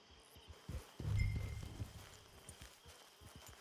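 Horse hooves clop at a slow walk in the Red Dead Redemption 2 game, with a louder burst of movement and snorting near the middle over faint insect and cricket ambience, no talking.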